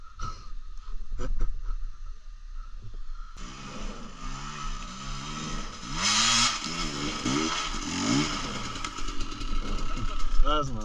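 An enduro motorcycle engine, a 220, revs and idles roughly in an outdoor racing setting, with rising and falling throttle sweeps, loud and close, while people talk and shout over it.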